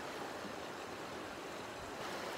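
A creek flows steadily with a broadband rush of water, loud and continuous and unbroken, with no voices over it.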